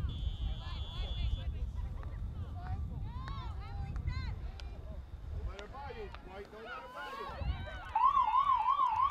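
A siren wails at the end of a half during a high school field hockey game, rising and warbling over crowd noise and wind as a commentator talks over it.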